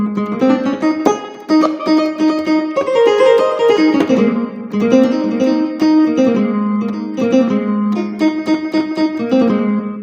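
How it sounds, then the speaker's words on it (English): A lead synth voice on a Yamaha PSR-E473 keyboard plays a continuous melodic line with sustained, bright harmonic notes and shifting pitches, loud and close throughout with no talk. "It sounds like a lead, so I want to show you how I set the sound."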